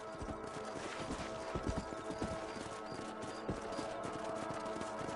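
Horse hooves clip-clop in a steady galloping rhythm on a ranch in the Red Dead Redemption video game, close and continuous, with faint ambient game sound beneath and no talk.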